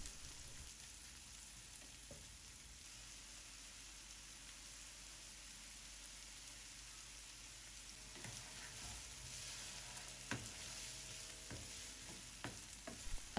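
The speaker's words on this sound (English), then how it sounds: "you're going to add in your bell peppers, of which is red, green and yellow, and also 1 carrot diced. You're going to saute that for 2 minutes" Diced red, green and yellow bell peppers with carrot sautéing in a pan for vegetable rice, a steady soft sizzle with occasional utensil clinks and scrapes toward the end, no talking.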